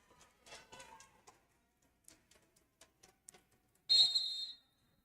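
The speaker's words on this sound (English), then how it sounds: "And Starcher whistled for the travel" A referee's whistle shrills once in a single loud blast during a girls high school basketball game, called for travelling, after a stretch of quieter gym sounds.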